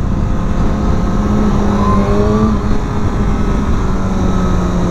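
A Suzuki GSX-R 750 sport motorcycle accelerates on the road, its engine a loud sustained roar with rising tones, mixed with steady wind rush and no voices.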